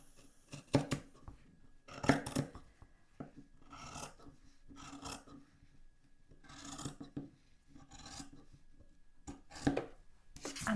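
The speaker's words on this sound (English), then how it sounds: "I'm going to trim this back right next to this seam line that I just made." Scissors trim fabric right next to a freshly sewn French seam on a zippered cosmetic bag, giving close, rasping bursts of cutting separated by short pauses.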